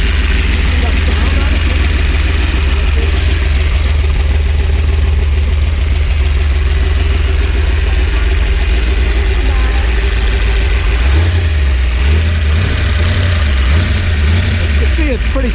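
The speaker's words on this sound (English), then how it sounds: "so it's not idling real nice now." A 327 stroker engine runs on a custom test stand, idling loud and close with a steady low rumble that turns uneven and lumpy near the end, while someone talks over it.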